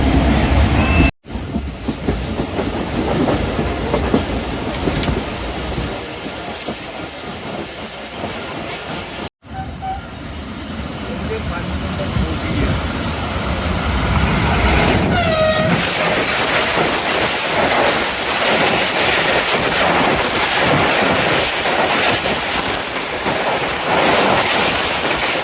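The Pak Business Express train rushes past at speed near Okara, a loud continuous roar of wheels with rhythmic clickety-clack and rattling cars that grows heavier as it passes.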